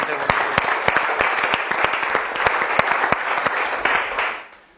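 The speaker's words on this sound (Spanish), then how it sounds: "Un aplauso para Cristo y para él." Applause from a congregation at a Bible institute class, a sustained crowd clapping with sharp individual claps standing out and a voice heard briefly over it, tapering off at the close.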